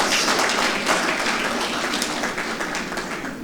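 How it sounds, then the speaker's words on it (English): An audience at a plenary opening ceremony applauds, producing a dense, steady patter of many hands clapping together across the whole stretch, fairly close and even in loudness. "May we still give him a wonderful round of applause."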